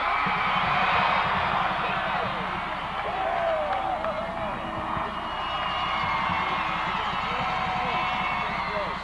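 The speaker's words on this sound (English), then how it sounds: "let's give a great round of applause for these 5 teams from both schools" A crowd at a 1994 Ohio high school football playoff game between Chardon and Rayland Buckeye Local, cheering, whooping and clapping for the teams: a loud, continuous roar of voices and applause filling the whole stretch.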